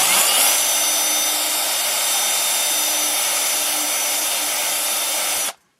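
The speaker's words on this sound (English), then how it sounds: "This needs to be drilled out to 3 millimeters." A power drill bores out the screw pin hole in a Tamiya Blackfoot ORV steering knuckle to 3 mm, running as one steady, loud whine for about five seconds before stopping abruptly.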